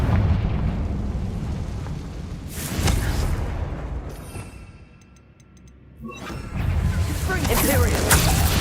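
Confringo explosive spell in the Hogwarts Legacy video game, loud booming blasts with rumbling roar, a brief quieter lull with faint chiming effects, then another heavy explosive burst, with a voice speaking among the noise.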